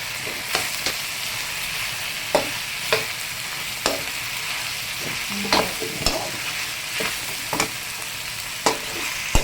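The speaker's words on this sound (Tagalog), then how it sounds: "Nahaluin lang po" Spatula stirring Bicol Express in a frying pan, a steady sizzle underneath with sharp scraping strokes every second or so, close and clear, no voices.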